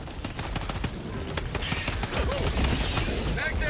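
Rapid bursts of automatic gunfire from a weapon in Helldivers 2, crackling over a dense battle din with explosions, while voices talk over the action.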